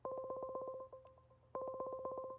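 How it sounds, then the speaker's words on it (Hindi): Phone dialing tones while placing a Hangouts audio call: a rapid run of steady two-note beeps, a short gap with a few scattered tones, then another fast beeping run, loud and close with no talking. "मैं कॉल मिलाता हूँ"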